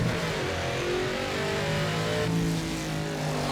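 In a racing video game, a hybrid car's drive hands over from electric to combustion power, and a steady, mid-pitched engine note rises and revs continuously with no talking.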